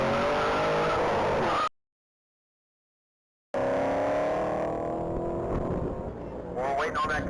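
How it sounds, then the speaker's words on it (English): An orange 2010 Chevrolet Camaro SS makes a top-speed pass at a standing-mile racing event, heard as a distant, steady engine drone with rising pitch. The sound cuts out for about two seconds, then returns with faint voices in the background. "we're waiting on that Camaro to finish its pass"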